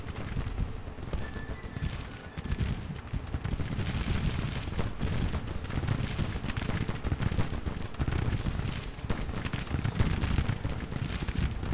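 An artillery battery fires in an American Civil War strategy game, a dense rumble of overlapping cannon booms and battle noise, loud and continuous with no voices.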